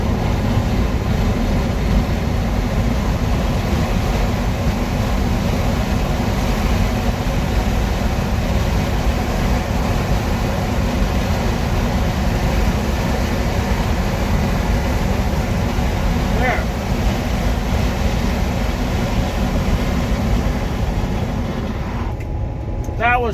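A train rumbles steadily past for the whole stretch, a loud continuous roar of wheels on rails with faint squeals and a horn-like tone near the end.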